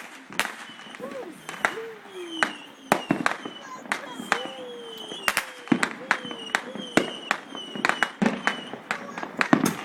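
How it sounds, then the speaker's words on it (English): Neighborhood fireworks going off in a rapid series of sharp bangs and crackling pops, with some whistling rockets climbing between bursts, mixed with distant voices and occasional cheering. "You could set off some serious fireworks in your neighborhood."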